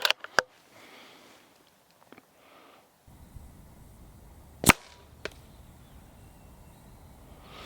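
A CZ 457 stainless synthetic .22 LR rifle fires, with one sharp crack standing out near the middle, a smaller report after it, and brief clicks and handling noises at the start.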